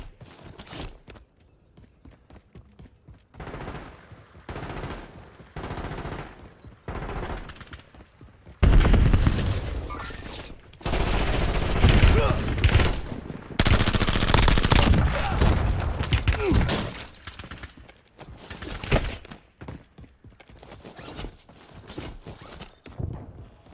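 Gunfire in the battle royale video game Warzone: a quiet opening gives way to loud, dense bursts of rapid shots and fusillades from about nine seconds, then fades to scattered quieter shots near the end.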